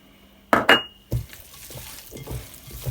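Kitchen mixing of a marinade for Jack Daniel's chicken wings with baking powder: a couple of loud clinks and scrapes, then softer rhythmic stirring and bumping in a bowl, close and with no talk.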